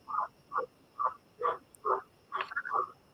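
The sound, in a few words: frogs croaking in the background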